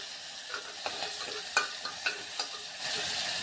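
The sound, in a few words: spice masala with green chilies frying in a pan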